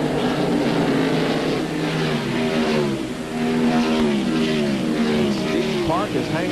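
Rusty Wallace's race car at the 1997 Bud at the Glen, heard on board: a loud, continuous engine roar with rising and falling revs through gear changes, with commentators talking over it throughout.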